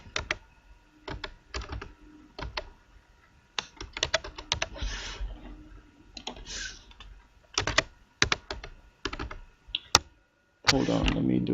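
Bursts of key clicks as a password is typed on a computer keyboard, close and fairly loud, in uneven runs with short pauses, ending in a dense flurry of keystrokes.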